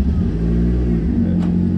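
A Chevrolet Celta engine with starting trouble runs close by, a loud steady low rumble that rises slightly as it revs, then settles back to idle.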